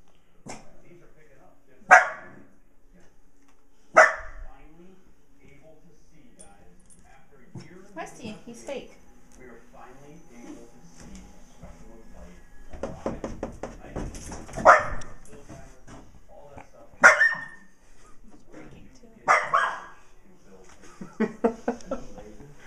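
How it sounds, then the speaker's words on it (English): A dog barks in sharp, loud bursts spaced a couple of seconds apart outdoors near deer, with quieter yips and rustling between, while people talk nearby. "Is he gonna start barking at the deer again?"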